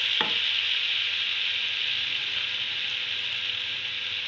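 Pea pulao rice with lemon juice being stirred in a hot pan: a steady soft sizzle with a sharp utensil knock near the start and faint scraping movements after, close, no talk.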